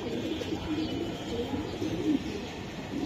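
A racer pigeon coos while being held and examined, low throaty burbling notes repeating under steady background noise, close and continuous.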